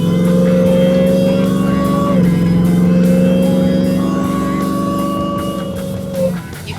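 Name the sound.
Hellcat Redeye engine whine in Jeep Grand Wagoneer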